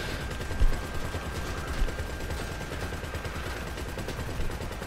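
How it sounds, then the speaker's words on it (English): Rapid gunfire from a GTA 5 Online Casino Heist weapons-stealing mission, a dense, continuous rattle of automatic shots with a few louder bursts, no speech. "There we go, now I can shoot."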